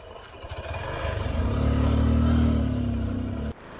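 A motorcycle rides a rough village trail in Jaimini, Baglung, Nepal. The engine swells and holds a strained drone with clattering over the bumps, then cuts off abruptly near the end.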